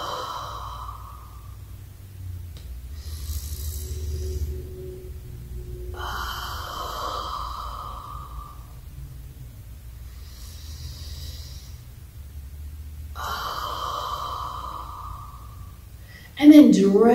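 Slow, deep breaths during a guided breathing exercise, each long exhale rising and falling in a steady cycle roughly every five seconds, soft and close over a low hum, with a louder bump at the very end.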